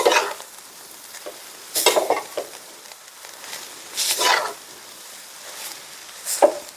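Curry leaves being stirred into hot grated coconut in a pan, giving a few short bursts of scraping and crackling sizzle at close range over a quiet background, with no talk.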